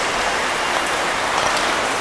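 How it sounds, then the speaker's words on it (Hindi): Heavy rain pours down in a dense, steady hiss, loud and unbroken throughout. "वो भी अच्छी खासी हो रही बारिश।"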